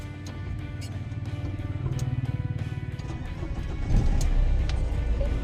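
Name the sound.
Nissan Micra car starting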